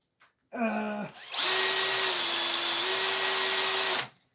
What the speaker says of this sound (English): I really need these things to drill.